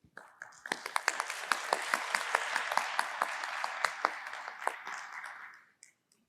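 Applause follows a speaker's remarks at a health conference plenary session, a smaller group clapping with distinct individual claps over a steady patter that trails off near the end.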